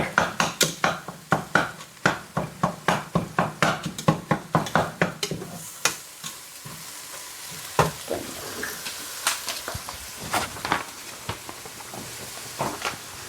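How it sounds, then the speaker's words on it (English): Vegan ground meat is broken up and mixed with onions and garlic in a pan for vegan chili, with a rapid series of loud scraping and tapping utensil strokes that slow and thin out over a steady sizzle. "So we're going to get that in the pan and get it all broke up, mixed in there with our onions and garlic."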